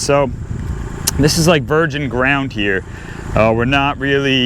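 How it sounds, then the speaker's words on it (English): A tractor engine drones steadily while plowing virgin ground full of roots, a constant low rumble running under someone talking close up throughout. "So pardon the tractor noise"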